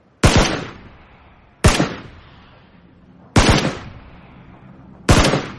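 Four loud, separate gunshots ring out in PUBG on Xbox One X, each a sharp crack with a decaying tail, spaced a little over a second apart as single-fire shots with no talk over them.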